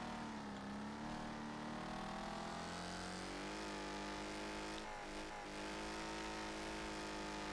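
A car engine in the racing game Wreckfest roars loud and steady throughout, its tone sliding up and down with revving and gear changes, close and continuous with no talk over it.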